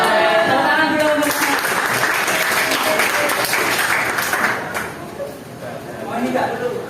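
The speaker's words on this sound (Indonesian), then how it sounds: "Tepuk tangan dulu untuk" Classmates in a school classroom clap together for a sustained stretch, the applause fading slightly near the end, with students chattering and calling out over it.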